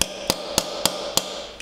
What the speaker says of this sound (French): C'est peut-être ce marteau, là.